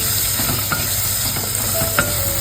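Tomatoes added to onions frying in oil with curry leaves in a clay pot, a steady loud sizzle with scattered stirring scrapes and small pops.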